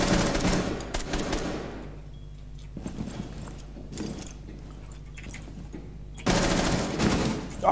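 Loud bursts of automatic gunfire in Rainbow Six Siege open the stretch, give way to a quieter lull with faint mechanical rattles, then return in a heavy close burst near the end.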